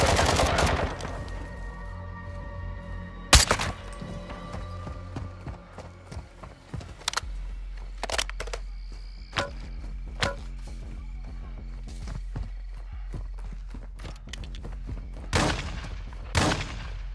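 Video game gunfire in a denied-area combat mission: scattered sharp shots and bursts ring out irregularly, some loud and close, others fainter, over a low rumbling background.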